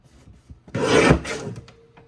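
Paper trimmer slicing through card stock for a card kit, a single short rasping scrape of the blade, close and alone, with faint handling taps around it.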